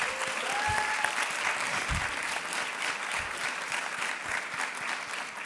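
Audience applause at a convocation ceremony, steady clapping from a crowd that stays fairly loud and even throughout.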